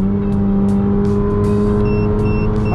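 A tuned Honda Jazz GK5 hatchback pulls hard under acceleration, its engine drone steady and loud close by with a rising note near the end, and no voices over it.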